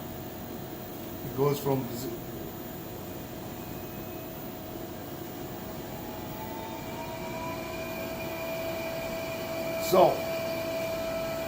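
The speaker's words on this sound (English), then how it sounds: "So the aspirator sounds like a turbine." A Buchi B290 spray dryer's aspirator runs with a steady turbine-like whir. A tone rises gradually through it, and a voice speaks briefly near the start and end.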